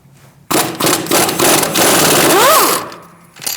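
Impact tool or socket driver loosening the 18mm brake caliper bracket bolt on a 2008-2014 Mercedes-Benz C300 front brake, a loud continuous rattling whir lasting about two seconds with a brief whine near the end.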